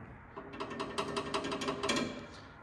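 The three-point hitch lever on a 7020 tractor is worked by hand, giving a quick run of close, dry ratcheting clicks, like a pawl sliding over gear teeth, for a couple of seconds.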